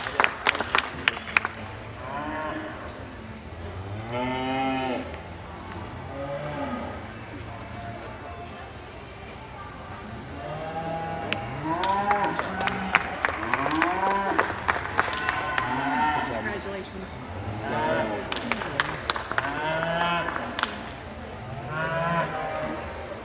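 Cattle moo repeatedly at a junior national cattle show, with drawn-out calls coming from several animals near and far. A crowd murmurs and claps in the background, and a voice talks at times.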